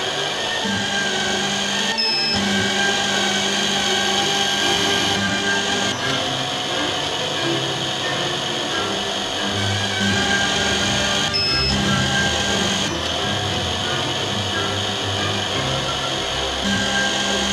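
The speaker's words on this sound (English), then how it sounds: "Press the electric motor button. Press the lever to start drilling." A Canton CT5412 3D lens drilling machine drills holes in eyeglass lenses, giving a steady, loud mechanical whine and hum that runs almost unbroken, with brief dips near the start and middle.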